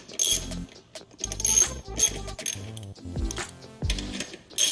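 Screws are tightened on a P-51 e-bike rear wheel with a ratcheting tool, giving bursts of quick mechanical clicking that come in several short runs with pauses in between, close and clear.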